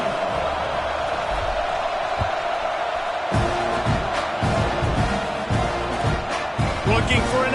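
Stadium crowd at a Memphis vs Texas A&M American football game, a steady roar of many voices with bursts of cheering rising midway, heard under a commentator's voice.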